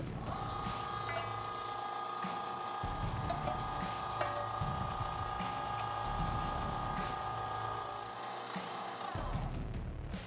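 A Cabela's electric meat grinder runs on fine grind, giving a steady motor whine and hum with low churning pulses as meat passes through, close and continuous without speech.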